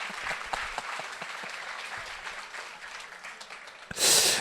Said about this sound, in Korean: 우리 두 분에게 모두 큰 박수 부탁드립니다.